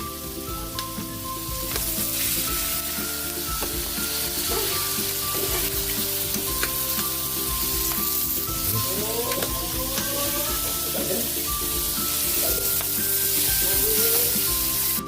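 Mung beans sizzle loudly in a pot of hot oil while being sautéed, a dense, continuous frying hiss with occasional clinks and scrapes of stirring, no voices.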